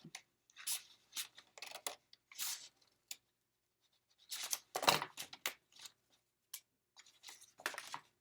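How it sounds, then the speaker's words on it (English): Scissors snipping out a paper monster shape for a first-grade symmetry craft, a series of close, crisp cuts in short bursts with pauses between them. "you can just cut it all out"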